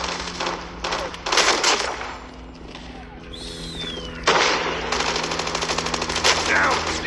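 Rapid gunfire, including a 12-gauge shotgun and automatic weapons, in Call of Duty Mobile Team Deathmatch on the Killhouse map; bursts of shots come and go over game sounds while a player talks.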